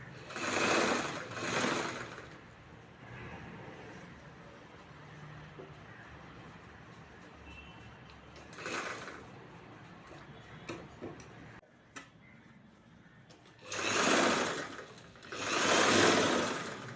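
A sewing machine stitches two layers of blouse fabric together at a quarter-inch seam, running in several separate loud bursts with quieter pauses between them.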